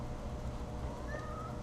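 A cat meows softly indoors while a bowstring is being twisted, a single rising drawn-out call over steady low background noise.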